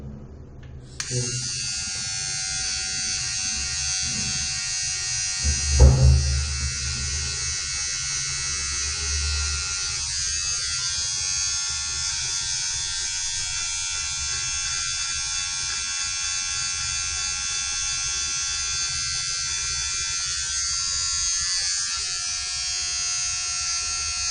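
An electric beard trimmer buzzes steadily and close for the whole stretch while lining up a beard along the cheeks during a home trim, with a brief louder bump early on and no talking.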